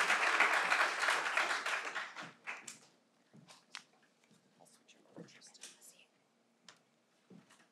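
An audience at a sustainability summit claps in a dense, loud burst that fades after a couple of seconds into scattered, sparse claps and faint murmuring.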